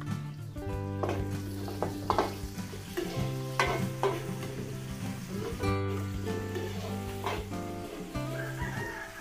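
Onions and garlic sautéing in a pan for a Filipino dish, a loud continuous sizzle broken by scraping stirs and clatter, with a rooster crowing repeatedly in the background.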